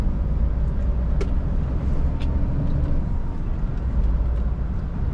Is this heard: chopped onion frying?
no